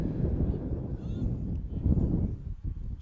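Wind buffets the microphone at an outdoor high school baseball game, a steady low rumble with gusty swells lasting throughout, fairly loud and constant.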